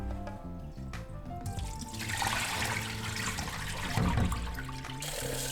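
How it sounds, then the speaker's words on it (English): Tap water runs into a wok for simmering pork ribs, a rising rush and trickle of water that swells and continues steadily, close and alone. "So now I'm filling it up with water"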